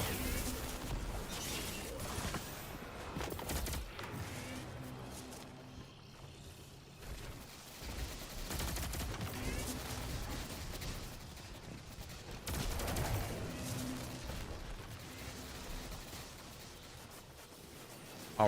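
Gunfire in the Destiny 2 video game rattles on in repeated bursts and volleys, dipping briefly midway before picking back up, with faint voices now and then.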